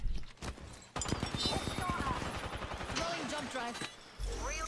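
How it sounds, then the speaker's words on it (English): Rapid bursts of automatic weapon fire in the video game Apex Legends, dense rattling volleys with brief pauses, mixed with in-game effects and a player talking over them. "They're shooting at me."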